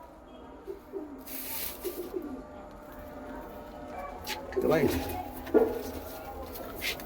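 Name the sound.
pigeons cooing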